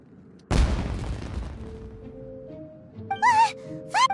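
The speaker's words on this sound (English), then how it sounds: "Was that an explosion?" An explosion in Genshin Impact set in Inazuma, a sudden loud boom that rumbles and decays over about two seconds, followed by tonal game effects and bright chiming sounds.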